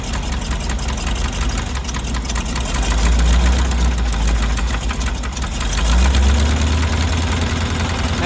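A 1977 GMC 6500 truck's 366 big block V8 runs rough, with a loud, steady, low rumble that uneven knocking roughens and that swells twice as the engine is revved, with no voices over it.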